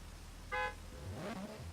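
A drift car at a starting line gives one short, loud horn honk over its idling engine, and the engine begins to rise just afterward.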